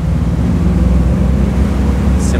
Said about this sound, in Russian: Оба мотора вперед, самый полный.